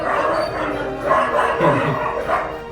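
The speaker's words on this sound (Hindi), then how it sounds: "कुत्ते बहुत भौंक रहे हैं ना।" Dogs bark and yip repeatedly in a Hindi-speaking household during Diwali, loud and fairly close, several rough bursts overlapping in a busy jumble.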